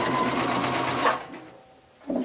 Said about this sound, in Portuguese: faz a costurinha de segurança